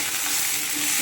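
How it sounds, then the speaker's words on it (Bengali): Mixed vegetables for Bengali shukto frying in a pan, a dense, even sizzle filling the whole short moment with no voices. "এই দেখো সবজিগুলো সব ভেজে নিচ্ছি।"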